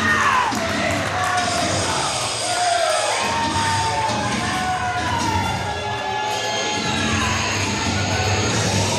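A Nashville wrestling crowd at The Long Halloween event roars and cheers for Miss Rachel's entrance, with whoops and shouts over entrance music, loud and steady across the whole arena.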